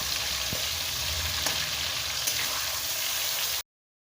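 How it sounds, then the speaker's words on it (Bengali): Fish fat frying in oil in a pan, a steady close crackling sizzle with a few sharp pops, cutting off abruptly into silence near the end. "মাছের তেলটাকে হালকা করে ভাজা করা হয়ে গেছে"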